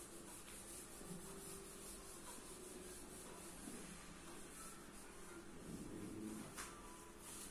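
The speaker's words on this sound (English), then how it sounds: "Therefore, I am rubbing the statement of the problem." A duster rubs writing off a classroom board, a faint, continuous dry scrubbing that keeps going without a break.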